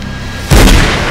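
A single heavy gunshot from the Masterminds (2016) comedy trailer: near-silence, then a sudden deep booming blast that rings out and lingers briefly.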